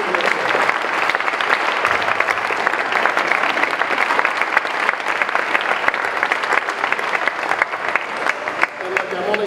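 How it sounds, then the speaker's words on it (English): An audience at a building kickoff event applauds loudly and continuously, a dense wash of many hands clapping that holds steady throughout. "give Patrick and his team a round of applause."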